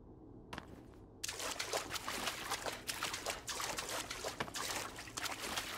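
Water pours in the Shadow of the Colossus video game, starting after a near-silent opening with a short splash, then a steady, fairly loud trickling flow with small fluctuating surges.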